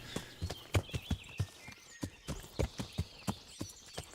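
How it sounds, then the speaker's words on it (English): Horse hooves clip-clop at a steady walking rhythm in the medieval game Kingdom Come: Deliverance, with about a dozen close, crisp hoof strikes sounding on their own. "It's a horse."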